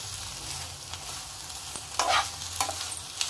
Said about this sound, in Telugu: చింతపండు కూడా ఒకసారి అలా ఫ్రై చేసుకున్నాము